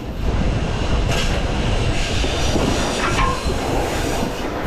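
A train rumbles steadily along the rails at low speed, close by, with faint metallic squeals and clatter from the wheels.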